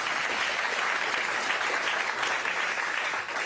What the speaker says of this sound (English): give all these guys a round of applause as well